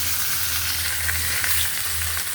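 Fish tails frying in hot oil alongside fish heads produce a steady, loud crackling hiss with a few faint pops and light scrapes, continuous throughout and with no talking.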